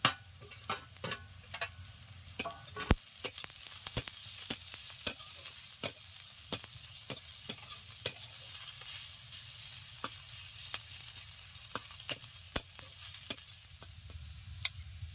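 Chopped onions frying with ginger, garlic and green chili in a pan for an egg tiffin snack, a soft steady sizzle broken by sharp, regular clicks and scrapes of a spatula stirring, close and without talk.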